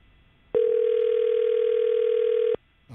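Outgoing call ringback tone on a telephone line: one steady, loud electronic tone lasting about two seconds, alone, then cutting off into quiet.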